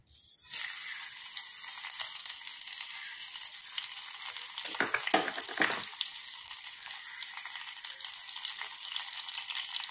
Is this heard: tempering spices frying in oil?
yes